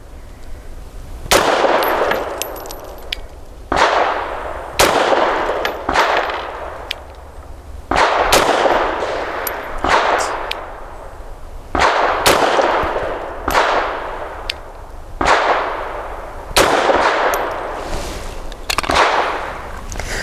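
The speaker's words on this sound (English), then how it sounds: "5 shots of Blazer brass at 7 yards on a 1-inch square" A Grand Power LP380 pistol fires Blazer brass rounds at 7 yards: loud, sharp cracks, each one ringing briefly, spaced about one to two seconds apart over the whole stretch.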